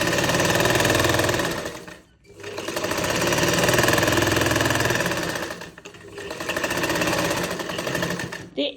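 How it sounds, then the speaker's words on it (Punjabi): Domestic sewing machine stitching the sleeve seam of a kameez, running in three loud sustained bursts with steady rapid needle chatter, briefly pausing between runs, no talk over it. "ਇਹ ਸਲਾਈ ਆਪਾਂ ਇੱਥੋਂ ਡਬਲ ਜ਼ਰੂਰ ਕਰਨੀ ਹੈ"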